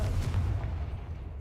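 A Confringo explosive spell goes off in Hogwarts Legacy as a deep, rumbling blast, loud at first and then slowly fading as a low boom that trails away over a second or so.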